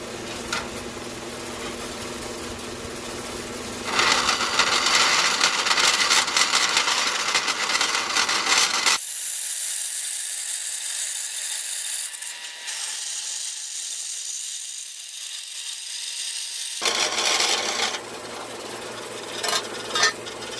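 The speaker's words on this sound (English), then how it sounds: "I'm going to just quick cut this out on the bandsaw." A bandsaw cuts out a metal patch for chassis repair on a 1961 Land Rover Series II, its loud grinding run giving way to a thinner, steadier whine midway before the harsher cutting noise returns.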